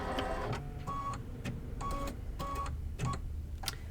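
A sewing machine stitches fabric in quiet, rapid whirring bursts separated by brief pauses, with faint clicks between runs.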